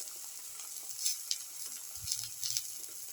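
A black pepper winter melon omelette sizzles in a pan over low heat, a soft continuous hiss broken by scattered sharp crackles and small pops.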